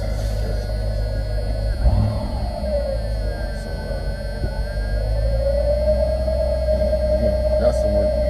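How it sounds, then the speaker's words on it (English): A Mercedes W126 500 SEC coupe engine idles close by, a steady low rumble with a faint whine riding above it, while someone talks over it. "Even when it idles, after it's been ran, the car sounds fine."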